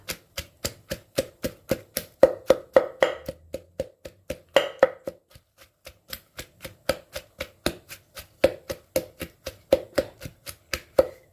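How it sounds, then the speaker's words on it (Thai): Pestle pounding chili, shallots and garlic in a mortar, a steady run of sharp close thuds at a brisk even rhythm, with a brief pause midway before the rapid strikes resume. "ตำพริกประมาณนี้ค่ะ"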